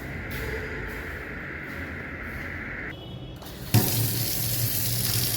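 Water runs steadily from a kitchen tap in an apartment. The flow holds an even hiss, then shifts and swells into a louder, fuller gush near the end, close by with no voices.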